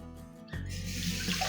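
Water runs steadily from a tap into a pot holding half a cup of rice for washing, a continuous close splashing rush that starts abruptly after a brief quieter moment.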